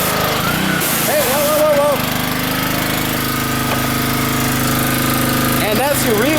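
A small engine is pull-started on a hot day with no choke and then runs loudly for pressure washing and degreasing a motor. A steady close-up drone continues under a man's brief exclamations.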